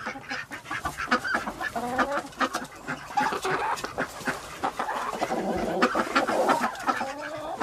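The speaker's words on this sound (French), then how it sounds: "Caché dans un coin, Typhoon guette le départ de Lydia pour inspecter le poulailler." A flock of hens in a farm henhouse clucks and squawks continuously, many overlapping calls close by and fairly loud, with no talk.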